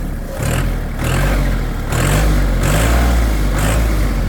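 A 2019 Kubota L4018DT tractor diesel engine revs up and eases back several times in a rising and falling rhythm, loud and close, with no voices.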